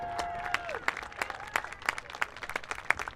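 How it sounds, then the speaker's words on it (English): Scattered crowd applause for the high school soccer seniors at an outdoor varsity women's soccer game, distinct individual claps in an uneven rhythm, fairly faint, with a brief voice at the start. "Please join me in giving another round of applause for our Pioneer High School soccer seniors."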